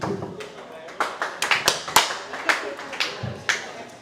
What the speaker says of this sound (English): Everybody give a big round of applause for our head coach, Coach Aaron York.